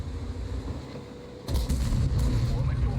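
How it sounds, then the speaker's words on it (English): A tank cannon fires at a T-29's track in World of Tanks: a sudden loud boom about halfway through lifts a low rumbling engine bed, followed by a sustained heavy roar and faint metallic rattles. "I'm going to put a shot into this T-29's track"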